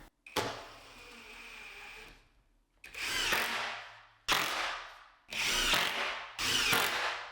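Power drill driving 1.25 inch screws through plywood into a door frame in a workshop, four or five separate close whirring bursts, each a second or so long and rising as the screw seats, with short pauses between.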